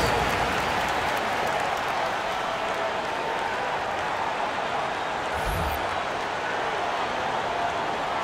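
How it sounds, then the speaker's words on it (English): Steady crowd applause for the dance squad performers in an NBA 2K22 basketball game arena, a dense continuous wash of clapping and cheering that holds at an even level throughout. "One more round of applause for your performers."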